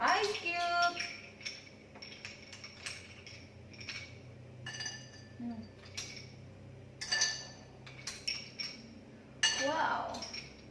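Ice cubes dropping into a glass for a red pomelo mocktail, a series of bright clinks and clatters in scattered bursts, close and fairly clear over faint background sound.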